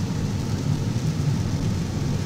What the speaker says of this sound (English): we're getting a lot of rain right now.